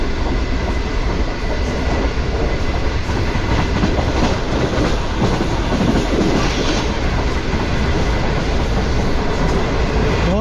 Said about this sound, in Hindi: तो 112 तक आ गई है ट्रेन हमारी